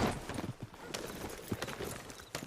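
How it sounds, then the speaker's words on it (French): Horse hooves clip-clopping in an uneven series of soft, fairly close thuds over a rustling background, with no talk. "C'est mon cheval."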